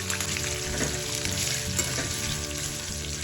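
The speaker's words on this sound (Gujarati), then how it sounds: "તેલ ગરમ મૂકી પનીર ફ્રાય કરી લઈએ" Paneer frying in hot oil, a dense, steady crackling sizzle close up with faint stirring touches and no talking.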